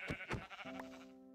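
A sheep in a video game bleats twice in quick succession, then gives a longer wavering bleat, clear and alone with no talk over it.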